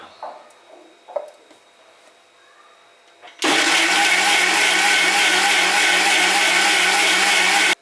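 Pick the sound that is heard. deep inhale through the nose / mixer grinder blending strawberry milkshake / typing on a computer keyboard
mixer grinder blending strawberry milkshake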